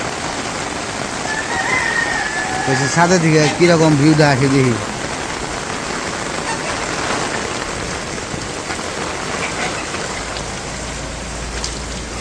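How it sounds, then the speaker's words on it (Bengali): Heavy rain pours down steadily over a village house with a flat roof, a dense, even hiss throughout, while someone talks briefly near the start. "বৃষ্টি আবার জোরে নামছে, আবারও নামছে জোরে বৃষ্টি"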